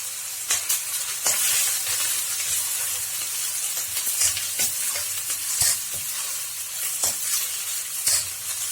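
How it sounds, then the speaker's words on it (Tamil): Grated ginger fries and sizzles steadily in hot oil while being stirred for a ginger pickle (inji thokku), with a continuous bright crackle and scattered sharp pops and spatula scrapes throughout, close up, with no speech. "இது நல்லா எண்ணெயிலேயே வேகட்டும்."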